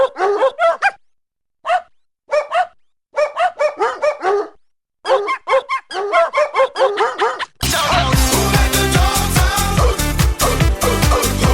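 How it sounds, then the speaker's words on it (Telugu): A small puppy barks in quick, sharp bursts and yips while playing with a family at home, close and loud with short pauses between volleys, before music takes over at the end. "మా పిన్ని వాళ్ళ ఇంట్లో బిట్టు అని ఈ చిన్న కుక్క పిల్ల ఉంది"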